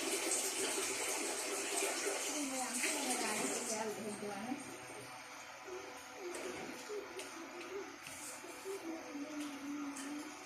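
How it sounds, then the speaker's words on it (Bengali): Hands washed under running tap water, a faint, steady stream of splashing and trickling that eases slightly midway, with a voice talking over it. "আমি এখন হাত ধুয়ে আছি"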